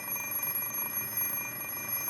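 An alarm clock rings in the Fate/Stay Night visual novel game, a steady, unbroken electronic ringing with bright high tones that holds at an even, moderate level throughout.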